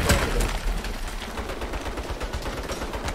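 Rapid bursts of automatic turret gunfire in the video game Saints Row (2022), a dense, continuous rattle of fire close by with no talk over it.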